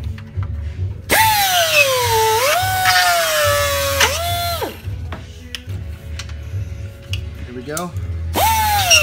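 A Dremel rotary tool cutting a hole in a car's engine bay for a Stillen cold air intake on a Gen 3 vehicle: close, loud whining bursts that rise and fall in pitch as the tool bogs and revs, with brief speech.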